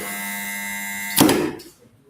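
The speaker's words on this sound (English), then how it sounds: "Jimmy Jolocon, test your buzzer." A quiz buzzer being tested at a school quiz contest: a steady electric buzz that cuts off with a sharp click and a short rattling thud, then silence.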